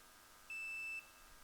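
A single steady electronic quiz buzzer beep at a campus quiz final, clear and fairly loud, holds for about half a second over a quiet room background.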